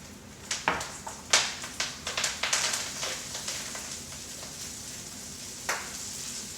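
Kale dropped into a hot pan with crisp ham and its rendered fat: a few sharp crackling pops at first, then a steady loud sizzle that holds throughout.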